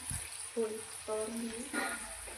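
Garlic sautéing in a pan until golden hisses in a steady, quiet sizzle beneath a person speaking in short phrases.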